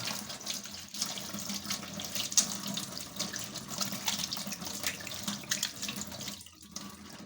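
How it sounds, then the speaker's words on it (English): Tap water runs steadily into a kitchen sink while hands are washed before cooking potato crisps. It is a continuous close splashing hiss that dips briefly near the end. "hygiene first. I wash my hands"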